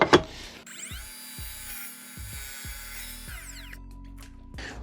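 An Evolution R255SMS-DB-LI cordless mitre saw spins up with a whine, cuts one-inch-thick hard maple in a steady rising howl, then winds down as the motor stops, close and alone.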